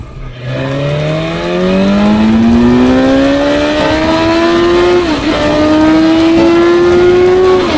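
A BMW motorcycle engine, from the F900R, F900XR and S1000XR lineup, revs loud and close, its pitch climbing steadily for several seconds, dipping briefly, then holding a high, raw drone.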